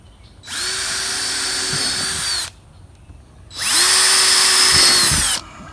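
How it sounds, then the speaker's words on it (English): Power drill boring holes in a DIY ice shovel, two sustained whining bursts of about two and four seconds, each spinning up and winding down, loud and close with a short pause between. "There's a lot of holes here to be drilled."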